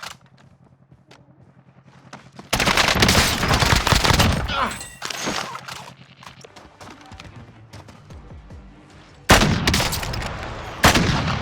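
Gunfire in the video game Call of Duty Warzone, loud bursts of rapid shots in two main stretches, the first several seconds long, separated by quieter passages with faint game sounds and brief voice lines.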